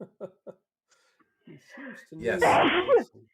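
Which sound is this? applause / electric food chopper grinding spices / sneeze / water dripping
sneeze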